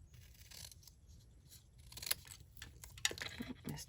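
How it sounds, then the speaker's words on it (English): Metal snips make small miter cuts in layered cardstock for a camper double gate fold card, giving a few faint, crisp snips over a quiet, rustling background. "you're going to take your snips and you're just going to make a little miter cut here and here"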